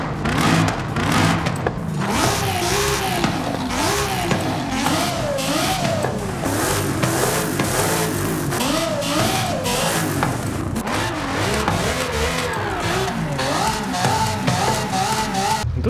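A 5.4-litre car engine in Forza Horizon 5 revs loudly and continuously through mid-range RPM, its pitch rising and falling in repeated waves, with no talk over it.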